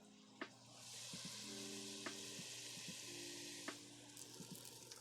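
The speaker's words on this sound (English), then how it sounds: "This is the meat sizzle" Meat sizzles in a hot pan with a steady bright hiss, under a low hum with tonal notes, and a few sharp clicks and taps from stirring.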